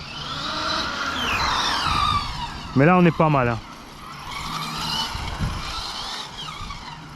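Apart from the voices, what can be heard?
Hobao VTe2 El Camino RC car engine running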